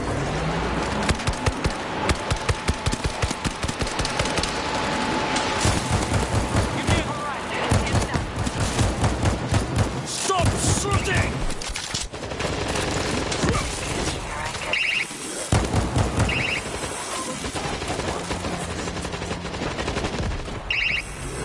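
Heavy-weapon fire in the zombie shooter World War Z, loud rapid bursts of automatic gunfire rattling on and off for the whole stretch, with crashes and game voices mixed in.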